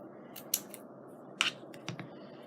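Scissors cut paper for a scrapbook bird memory book, a few crisp close snips spaced apart in an otherwise quiet room, with no talk.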